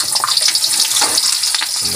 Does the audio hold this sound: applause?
no